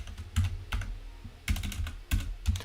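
Someone types on a new computer keyboard, close and clear, in uneven bursts of clicking keystrokes separated by short pauses.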